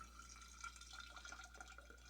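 Water poured over microgreen seeds, a steady soft trickling and splashing held close by, with no talk over it.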